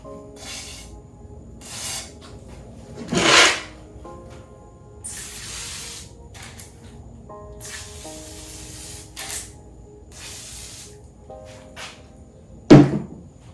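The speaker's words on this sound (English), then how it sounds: "I'm gonna go ahead and hit the first cylinder with some WD-40" WD-40 is sprayed onto the cylinder of a Magnum 360 engine from a Ram truck in short, separate hissing bursts, with occasional thunks and clatter in a quiet workshop.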